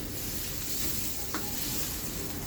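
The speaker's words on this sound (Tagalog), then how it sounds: "Konti pang halo para maluto yung ating sibuyas kasi yung bawang medyo nasusunog na eh." Onions and garlic fry in a pan with a dense, steady sizzle at close range, broken by one brief spatula scrape; no voices.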